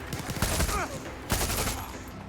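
Gunfire in Far Cry 6, with two loud, close bursts of rapid shots separated by a short pause, a voice briefly audible between them.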